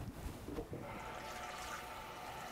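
Water is poured into a bowl of fresh strawberries being washed, a soft trickling fill heard faintly and close, with no talking.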